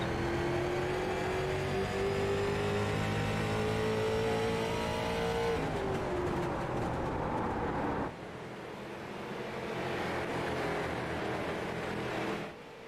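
Stock cars race at Martinsville, a loud engine drone holding a steady pitch and then shifting as the cars pass, with a sudden drop near the end of the lap before the roar swells again.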